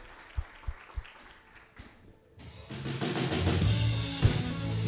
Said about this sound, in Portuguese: Aplauda o nome do Senhor essa noite, querido.